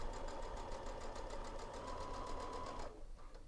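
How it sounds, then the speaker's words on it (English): Sewing machine stitching a seam, a fast even mechanical chatter of the needle with a motor whine running close and steady for about three seconds before stopping abruptly. "I'm going to sit down at the sewing machine and sew this."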